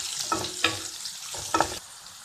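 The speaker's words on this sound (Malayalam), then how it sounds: "ഇതിലേക്ക് സവാള ആഡ് ചെയ്യാം. ഇനി ഇത് നന്നായിട്ടൊന്ന് ഫ്രൈ ആവണം." Sliced onion frying in a pan for a Kerala banana flower stir-fry, a continuous close sizzle broken by a few scraping stirs of the spoon, with no talking.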